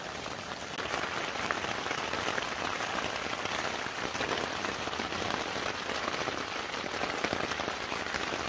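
Steady rain patters on a camping tent in the Yorkshire Dales, a dense, close hiss of drops on fabric with water dripping down the side, continuous and fairly loud throughout.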